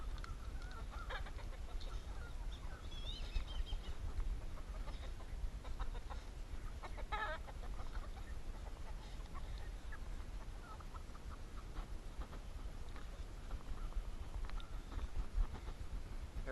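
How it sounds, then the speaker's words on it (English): Chickens and young chicks cluck and squawk in an early-morning yard, with scattered calls, a couple of sharper bursts, over a constant low rumbling background. "There's one of the young chicks."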